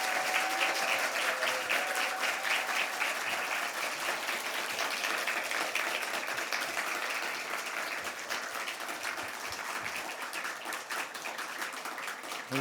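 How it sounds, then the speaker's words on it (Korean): A church congregation gives a missionary to Ethiopia a warm welcome with dense, sustained applause during a worship service, clapping strongly throughout and easing only slightly toward the end. "박수로 모시겠습니다."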